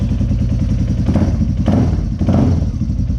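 A Yamaha Warrior ATV engine with a slightly stretched timing chain and newly clamped exhaust runs close by. It holds a loud, steady thumping idle with two short rises in revs.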